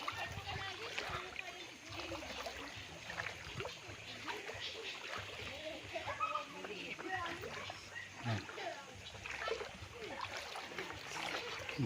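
Water sloshes and splashes steadily while crossing a clear river on a farm lot in Calauan, Laguna, Philippines, with a continuous watery rush throughout and no pause in the movement.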